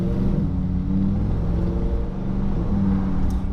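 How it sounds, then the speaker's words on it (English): A Lamborghini engine idles in traffic at slightly raised revs with its exhaust valves open, giving a steady, loud, low rumble that continues without a break. "just idling in traffic, you've got that slightly higher rev range, and you've got all the valves open"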